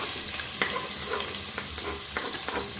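Curry leaves crackle and sizzle in hot oil in a pan while cooking cluster bean palya, a steady close hiss broken by a few sharp pops and stirring clicks.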